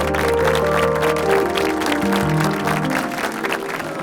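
Audience at an education awards ceremony claps steadily and loudly for a motivational speaker taking the stage, a dense continuous round of applause with music playing underneath.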